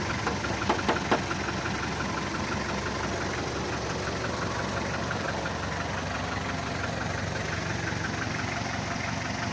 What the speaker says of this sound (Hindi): ये चेक करें जी, 3L डीजल इंजन इंस्टॉल है।